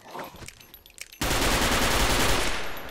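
Sustained rapid gunfire erupts suddenly during a fight in the video game Fallout, a loud dense burst that runs continuously after a quieter stretch of faint clicks and thuds, with no voices.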